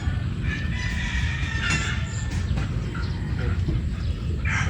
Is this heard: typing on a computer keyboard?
no